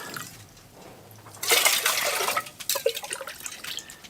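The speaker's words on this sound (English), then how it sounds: "I'm gonna get some drinking water out of this hole before I start fishing out of it." Water is scooped and poured from a hole drilled through lake ice, a splashing, gurgling rush that starts suddenly partway through and continues with trickles and drips, close by.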